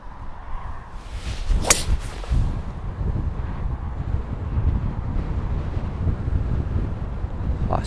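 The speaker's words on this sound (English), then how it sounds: "It's a wee bit windy, to say the least." Strong wind buffets the microphone on a coastal golf course in Fraserburgh, Aberdeenshire, a constant low roaring rumble with a sharp whip-like gust crack near the start.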